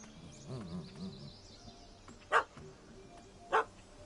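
A dog in The Witcher 3: Wild Hunt gives two short, sharp barks about a second apart, moderately close, after softer muffled sounds over a quiet background.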